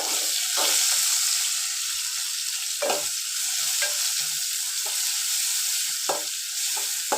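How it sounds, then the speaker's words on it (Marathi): Chopped chilies and onion sizzle steadily in a hot pan, a bright continuous frying hiss broken by a few soft scrapes and stirs of a spatula, close and with no talking. "कोली मिरची कांदा मी सगळं परतून घ्यायचं"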